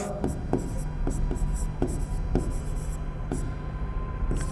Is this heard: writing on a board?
yes